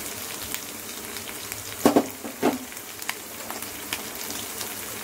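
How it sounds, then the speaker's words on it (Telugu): Prawns fry in a pan for a hotel-style royyala fry. A continuous close crackling sizzle runs throughout, broken by two sharper bursts of stirring or spatter near the middle. "వీటిని బాగా ఫ్రై చేసుకోవాలి."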